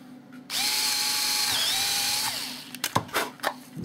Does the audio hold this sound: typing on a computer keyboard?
no